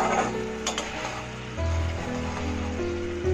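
Fish curry gravy for boal fish bubbles and sizzles steadily in a pan, a close, continuous frying hiss with music or a tonal hum running underneath and no speech.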